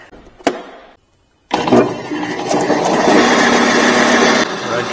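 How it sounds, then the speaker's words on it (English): A belt sander switched on while powered from a portable power station: a short click and pause, then a loud, steady whirring drone of the motor and belt that holds evenly for several seconds. "How about this belt sander?"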